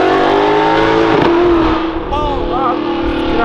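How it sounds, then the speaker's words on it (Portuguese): A Ferrari engine revs down while downshifting then climbs again in pitch accelerating, loud and close, with a voice talking over the roar. "Tem noção com uma Ferrari reduzindo, depois acelerando tudo e ainda saindo um pouquinho de lado?"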